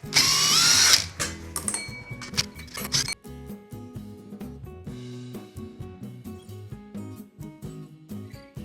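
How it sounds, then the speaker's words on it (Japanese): An impact driver spinning spoke nipples off a Yamaha Ténéré 700 motorcycle wheel in a workshop: a loud whine at the start, then a run of short, rapid mechanical bursts and whirs, close up, with no talking. "もうインパクト使ってウィーンと全部外していきます。"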